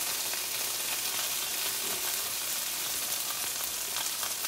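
Butter melting in a hot pan for cooking asparagus and rice, giving off a steady, close, even sizzle and crackle with no talking.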